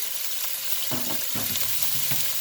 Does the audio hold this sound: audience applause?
no